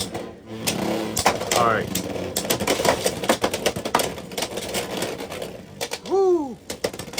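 Two Beyblade spinning tops, Hellsscythe and Dranzer S, are launched and clash in a stadium, giving rapid clattering impacts and scraping under excited voices, with a loud cheer near the end.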